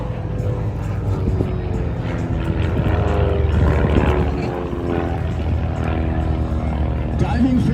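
Vintage propeller aircraft fly mock air combat at an airshow in Apple Valley, California, their engines droning steadily and loudly throughout, with an announcer talking over them.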